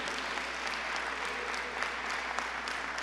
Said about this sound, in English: Give Amy Alley a round of applause because she lived and breathed this bill.